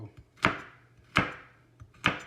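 A kitchen knife chops beef for carne guisada stew on a cutting board, making three sharp, evenly spaced thuds at close range with faint light taps between them and no talking.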